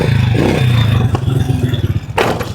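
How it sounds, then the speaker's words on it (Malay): A motorcycle engine revs unevenly during a wheelie with badly handled throttle, a loud close droning roar that surges and sputters, then breaks into a brief harsher burst near the end. "Rhythm bunyi motor ni bila kau salah throttle."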